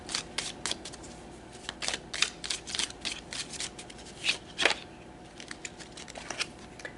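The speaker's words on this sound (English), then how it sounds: "I'm going to do it in two parts because it's just too much to try to shuffle all of them together" Playing cards for a tarot-style reading are shuffled in bursts of crisp riffles and snaps, close and fairly loud, with short pauses between handfuls and no talk.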